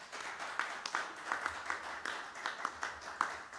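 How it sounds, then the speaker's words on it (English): Audience applause at the live launch event of a mobile money campaign, a moderate round of clapping with scattered sharper claps, fairly even and somewhat distant, with no talk over it. "Another round of applause for Mr. Lamte."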